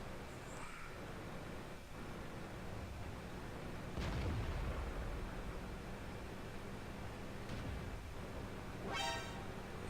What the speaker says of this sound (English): And hits the KV-13, but doesn't pen.